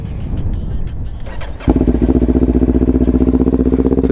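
A 2024 Kawasaki Ninja 500 KRT SE motorcycle fires up close by after a moment of quiet shuffling, then settles into a steady, loud, rapidly pulsing idle.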